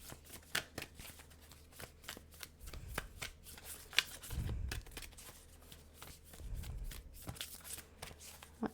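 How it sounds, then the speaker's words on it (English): Tarot cards being shuffled by hand, soft riffling flutters and taps repeating close up and quietly, with a few low thumps as the deck is handled. "I'm going to get one more additional card here."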